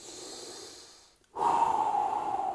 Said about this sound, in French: Prenez une grande bouchée de respiration